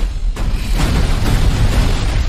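A cinematic explosion from an action film trailer booms loud and close, with a heavy low rumble and crackling burst that roll on for a couple of seconds.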